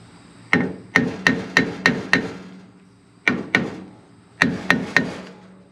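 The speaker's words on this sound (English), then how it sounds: "Probably shouldn't use a real hammer on it" Sharp, close hammer blows land in quick bursts of three to five strikes, separated by brief pauses, each hit ringing slightly.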